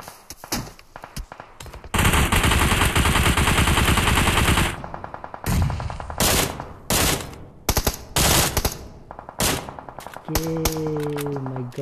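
Automatic gunfire from a team fight in PUBG Mobile on the Sanhok map rattles out in loud, dense bursts, one long sustained volley, then several shorter clustered bursts, with a few tonal game sounds near the end.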